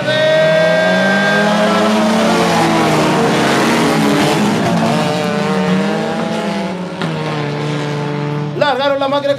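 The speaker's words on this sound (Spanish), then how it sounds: "Largaron las máquinas que estaban en grilla" Race cars in the 1600 standard and ladies categories launch from the starting grid at Valdivia de Paine, engines roaring loud and close, revving and rising in pitch as several cars accelerate away together.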